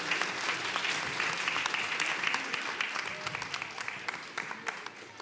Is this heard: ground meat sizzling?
no